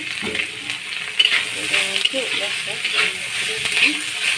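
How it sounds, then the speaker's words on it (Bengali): Boiled, marinated minced meat is stir-fried with raw onion in an oiled wok for momo filling, giving a steady close sizzle broken by scraping and clinking stirring strokes. "সেদ্ধ করে ম্যারিনেট করা কিমাটাকে একটু হালকা নেড়ে নিব"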